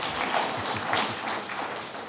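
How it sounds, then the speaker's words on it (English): Scattered applause from the audience at a York County council meeting right after a motion passes, a brief burst of claps filling the room at moderate level. "that did deserve a clap"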